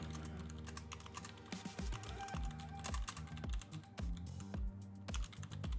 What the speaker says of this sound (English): see how much further we're able to get with our 60-second typing test